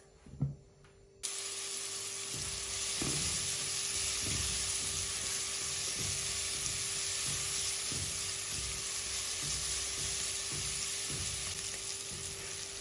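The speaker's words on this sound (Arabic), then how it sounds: "وبقليهم مع بعض على الغاز" Chopped onions frying in about four spoons of vegetable oil in a pot on a gas stove, a steady close sizzle that starts abruptly and runs on continuously, with occasional soft clinks of stirring.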